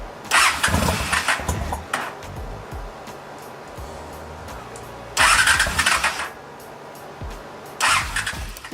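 A 2003 Honda Shadow 750 motorcycle cranks and catches in three loud bursts, each followed by a quieter idle-like stretch, heard close up with no talking.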